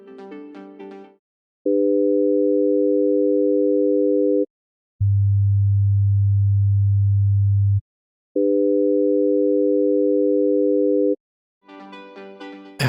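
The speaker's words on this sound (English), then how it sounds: "Play 3 tones together. At 300, 400 and 500 Hz, and you hear a note at 100." Pure steady sine tones at 300, 400 and 500 Hz sound one after another as long even blocks of about three seconds each, with short gaps and brief bursts of other sound at the start and end.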